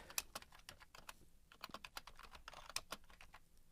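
Quick, irregular key clicks on a computer keyboard while HTML code is entered, a close and fairly quiet clatter in short bursts with brief pauses, no voices.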